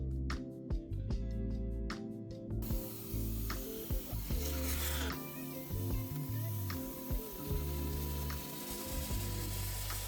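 Paint spray gun misting water-thinned dark gray-green paint onto a vintage dresser, a steady hiss with mechanical clicking and ratcheting, fairly faint and close, with no voices.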